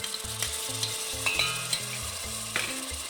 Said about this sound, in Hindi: ये देखिए प्याज ब्राउन हो चुका है, अब हम इसमें लहसुन अदरक का पेस्ट शामिल कर लेंगे